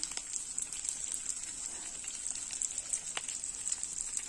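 Spice paste of garlic and ginger sautéing with chopped onion in a pan, a steady close crackling sizzle with fine spitting pops throughout and no voices.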